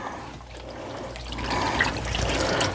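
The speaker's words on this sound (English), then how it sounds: "I do let it drip a little bit. If I were taller, I'd let it drip more, but it does drip quite a bit." Starch-soaked quilting fabric, about five yards, hangs unsqueezed and drips steadily, a continuous close watery trickle and patter that grows slightly fuller toward the end, with no talking.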